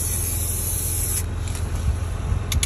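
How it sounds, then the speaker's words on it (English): Cleaner sprays in light coats onto a Lincoln MKZ car seat, a close, loud hissing burst that cuts off, followed by a few quick, shorter spritzes. "Keep spraying light coats so you cover your surface."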